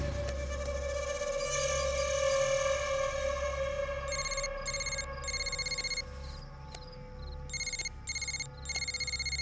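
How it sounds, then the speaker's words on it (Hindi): A phone rings in repeated electronic bursts, two groups of rings separated by a pause, over a steady hum. "महेश का फोन है भाई"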